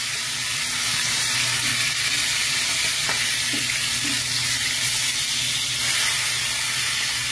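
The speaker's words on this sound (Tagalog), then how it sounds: "At kay bango iprito yung tilapia" Tilapia fish frying in hot oil, a steady broadband sizzle and crackle running throughout at close range, with faint occasional pops and no talking.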